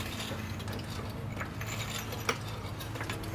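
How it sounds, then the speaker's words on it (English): A car jack ratcheting up under a Mustang during a drift coilover install, a quiet repetitive clicking with a rhythmic mechanical pulse, heard close and faint with one sharper click near the end. "Alright, keep jacking it up."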